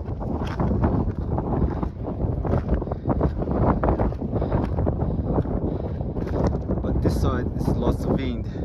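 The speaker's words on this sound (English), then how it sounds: "Lots of wind." Strong wind buffets the microphone on Pescado Island in the Salar de Uyuni salt flat, a loud, continuous roar with gusty rumble throughout.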